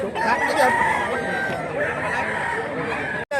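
Roosters crow and chickens cluck amid a noisy crowd at a gamefowl sale, with voices chattering throughout.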